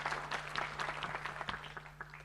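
A conference audience at a lodge in Naivasha gives a brief round of scattered applause, fairly faint and distant over a steady electrical hum.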